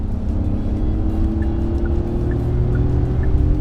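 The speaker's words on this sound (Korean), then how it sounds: "가속하면서 엔진음 들으셨겠지만 액티브 사운드 강하게로 켜져 있는 상태예요" A Genesis GV80 facelift SUV with a 2.5-litre turbo four-cylinder accelerates with its active engine sound set to strong, giving a low, steady droning hum from inside the cabin, even and continuous.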